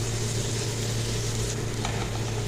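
Onions sizzling steadily while they sauté in a pan for a potato bites snack, a close, continuous frying hiss with a low hum beneath it and a faint stir near the end.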